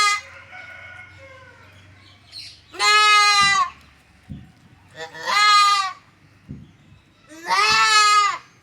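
Young goat kid bleating three times in loud, wavering cries spaced a few seconds apart, with quieter rustling and low background hum between calls.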